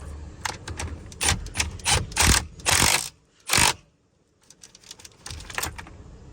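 Rapid bursts of ratchet clicking while a steering wheel nut is tightened on a Hyundai Elantra, several quick runs of clicks separated by short pauses, close and fairly loud with no talk.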